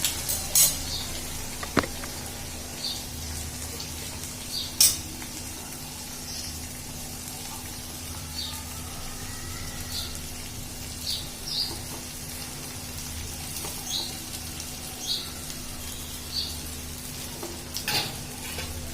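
Cooked rice being stirred into a pan of golden-brown fried potatoes for veg pulao, giving a faint steady sizzle with soft scraping stirs and occasional light clinks, no talking.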